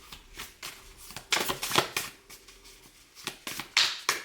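Tarot-style oracle cards being shuffled in a series of quick riffling bursts and soft flutters, close by with no talking.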